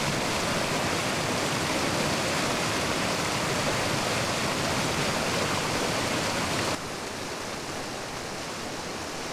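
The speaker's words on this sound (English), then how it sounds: "another weir video showing the steps coming down with the water flowing over them" A constant broadband rush of the River Yarrow pouring over weir steps, loud and unbroken, becoming slightly softer for the final couple of seconds.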